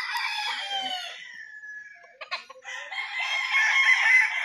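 Gamefowl roosters crow on a game farm, one long crow followed by brief clucking and then more overlapping crows, fairly close and clear with no talk.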